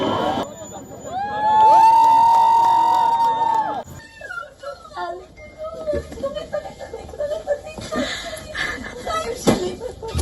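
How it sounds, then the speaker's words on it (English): Families erupt in shrill cheers and screams as hostages from Gaza are handed over to the Israeli military. The loud cheering fills the first few seconds, then gives way to a crowd murmur with people talking. "Families erupted in tears, cheering, as the hostages were handed over to the Israeli military"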